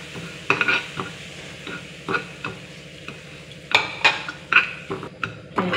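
Rice flour being stirred in hot oil in a pan for pitha, a soft sizzle broken by regular scraping strokes and light clinks of a spoon, close and steady.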